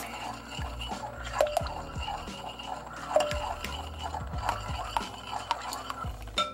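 Thick vegan s'mores cookie dough is stirred in a bowl, giving continuous wet, sticky squishes and scrapes with irregular clicks of the spoon, close and moderately quiet.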